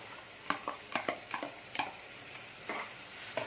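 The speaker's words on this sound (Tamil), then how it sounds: "இதையும் சேர்த்து நல்லா கிளறி விட்டுக்கணும்" A ground paste of ginger, garlic and cashew is stirred in a pan, a spatula making a series of quick scraping strokes and taps over a faint sizzle, fairly quiet and close.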